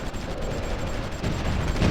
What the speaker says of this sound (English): Oh, that's anti-tank gun.